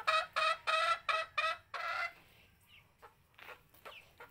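Hens at a garden coop cluck in a rapid series of loud, close bursts, followed by scattered quieter clucks and calls.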